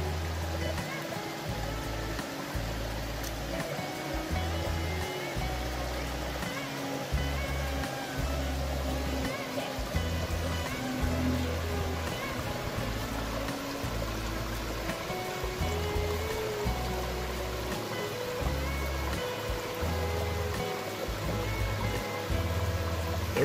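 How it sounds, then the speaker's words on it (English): A continuous waterfall on a Tennessee mountaintop gives a steady, full rushing roar of falling water that stays even throughout, with no voices heard. "But way up on top of the mountain, continuous waterfall."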